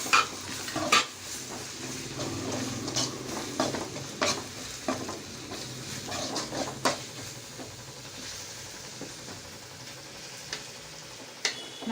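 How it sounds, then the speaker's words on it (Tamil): Ginger garlic paste sizzles steadily in a pan for a Chettinad crab gravy, with repeated clinks and scrapes of a metal spoon stirring against the pan throughout. "இஞ்சி பூண்டு பச்சை வாசம் போகிற வரைக்கும் வணங்கட்டும்"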